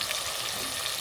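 Spices and masala sizzle in hot oil, a dense, continuous hiss with a steady crackle, close and alone with no voices.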